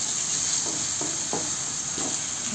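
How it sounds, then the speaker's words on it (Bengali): Green chillies sizzle and fry steadily in a hot pan, with a few soft stirring scrapes breaking through the continuous hiss. "আমি কাঁচামরিচ দিয়ে কিছুক্ষণ নাড়তে থাকলাম।"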